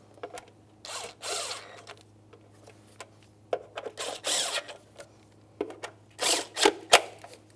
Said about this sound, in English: 3 10mm headed mounting bolts. Start them all in and then snug them up.